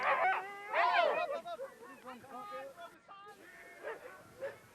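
Sled dogs at a frosty trail start of a Scottish championship qualifying race bark, yip and whimper excitedly in a close, busy chorus, with a voice or two mixed in among the yelps.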